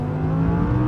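Lamborghini-derived engine of an Audi R8 under throttle, a short, steady, loud mechanical drone with a slight lift in pitch at the very end.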